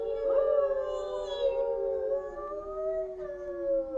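Group of people imitating a siren with their voices at a library book reading, a chorus of rising and falling wails held steadily for several seconds at moderate volume.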